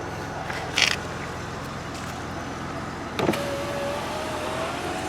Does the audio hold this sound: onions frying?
no